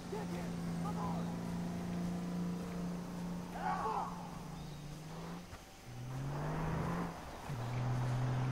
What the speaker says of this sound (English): Oh my goodness, I hear another car.